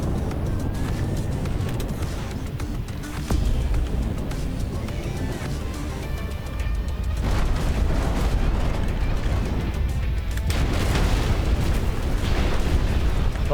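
Buildings crumbling and exploding in the destruction game Instruments of Destruction, a dense, loud, continuous rumble of collapsing debris and booms that swells toward the end, with a voice speaking over it at times.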